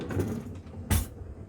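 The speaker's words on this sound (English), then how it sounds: "You pull this drawer out." A caravan drawer slides out with a short scraping rattle and a sharp knock near the end, heard close up in the caravan's kitchen area over light background noise.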